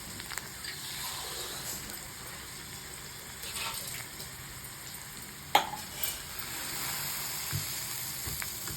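Curry leaves hitting hot oil in a pan, a soft continuous sizzle and crackle with one sharp pop midway, fairly quiet throughout.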